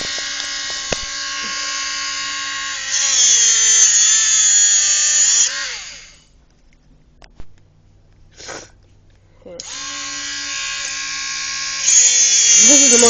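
A Dremel rotary tool cuts through a steel cable bike lock with a loud, shrill whine that wavers in pitch under load, stops for a few seconds with only small knocks, then spins up again.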